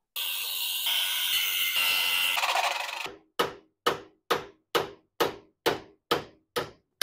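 Steel hammer strikes on a Toyota Celica RA24 door hinge during a rebuild, about ten sharp ringing blows at an even, unhurried rhythm, each ending in a quick metallic decay, following a few seconds of loud grinding.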